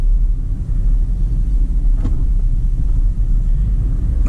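Car driving along a suburban street in Bundoora during a driving lesson, heard from inside the cabin as a steady low engine and road rumble with no talk.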